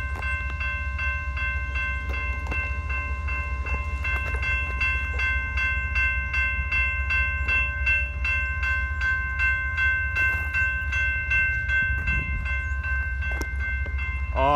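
A train shunting at Fostoria, Ohio rumbles past steadily with a deep low drone, horn-like sustained tones and repeated metallic clicking of wheels over rail joints.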